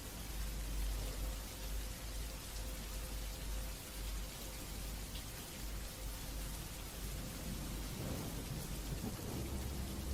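Steady rain pours alongside rumbling thunder, a continuous dense wash of falling water with deep low rolls underneath and no voices.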